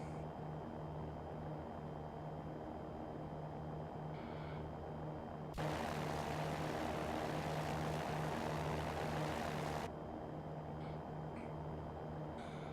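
A Cirrus SR20 propeller plane climbs after takeoff in the X-Plane 11 flight simulator, its engine a steady, even drone throughout, with a broad burst of rushing noise swelling over it for several seconds in the middle.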